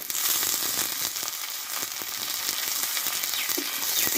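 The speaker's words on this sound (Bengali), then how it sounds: "এবার পেঁয়াজ আর কাঁচা টমেটোর সঙ্গে কিন্তু মশলাটা ভালোভাবে কষে নেব" Chopped green tomatoes frying and being stirred with onions and spices, a loud dense hiss of sizzling oil filling the whole stretch, with occasional crackles and scraping stirs.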